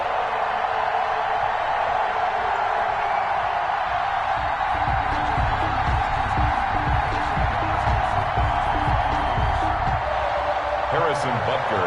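Crowd noise in a Madden football stadium before a Kansas City kickoff against the Las Vegas Raiders: a constant roar of cheering fans under a commentator's voice, with thumps and claps rising in the second half.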